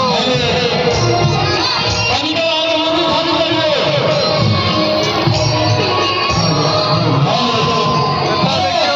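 Dense crowd noise fills a Durga Puja farewell procession for the goddess at Mahrail village, Jhanjharpur: a continuous loud roar of many voices with shouts and whoops, steady throughout.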